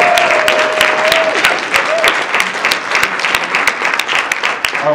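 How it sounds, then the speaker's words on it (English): Audience at an anime convention improv Dungeons & Dragons show applauds steadily for five seconds, a dense wash of clapping with a few sharp claps standing out and a voice or whistle briefly rising over it. "give a round of applause for these people"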